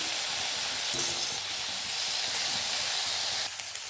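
Continuous loud sizzling hiss of an Indian dish frying in a pan with turmeric, a steady dense crackle running throughout with slight swells near the end.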